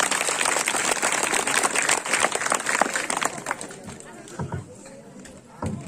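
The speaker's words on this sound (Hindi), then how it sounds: "एक बार इनके लिए जोरदार तालियां बजा दीजिए" An audience claps for a play by class 7 girl students at an Independence Day school programme, a loud dense round of applause that fades into scattered claps and background murmur.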